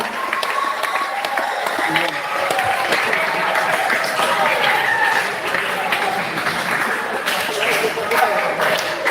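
Applause from an audience at a school ceremony marking a headmaster handover at an Islamic high school, a steady dense wash of clapping throughout, with faint murmuring mixed in.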